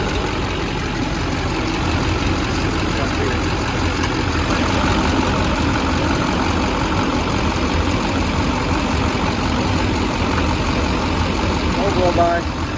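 A 2006 Chevy Silverado 2500HD crew cab 4WD with a Duramax diesel and Allison transmission idles steadily nearby, a continuous low rumble and clatter that stays even throughout, with faint voices in the background.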